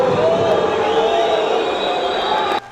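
A large football stadium crowd booing loudly at half-time, a sustained dense roar of disapproval that holds steady before cutting off abruptly near the end.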